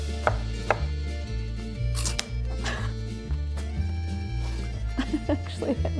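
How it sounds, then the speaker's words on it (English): A knife chops a medium yellow onion on a cutting board in sharp, irregular knocks, close up, over continuous background music. "Chop up 1 medium yellow onion."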